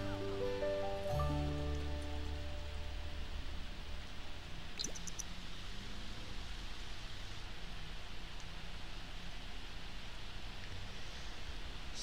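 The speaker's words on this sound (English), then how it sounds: "it's raining" Steady rain from The Sims 4 game hisses as an even wash of drops and patter, with a brief low tone fading early on and no speech.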